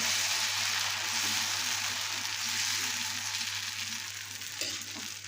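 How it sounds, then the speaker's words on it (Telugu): Dosa batter sizzling on a hot oiled pan, a continuous bright hiss heard close up with a faint steady hum beneath and a small clatter near the end. "దోశను వేస్తున్నాను"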